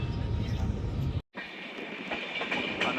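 From inside the Pune–Kanyakumari express, the moving train gives a steady rumble and rattle of wheels on the rails, with a brief dropout partway through.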